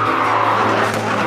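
Rally car driving hard on a loose surface, its engine roaring steadily while the tires skid and scrabble throughout, loud and close for the whole moment without pause.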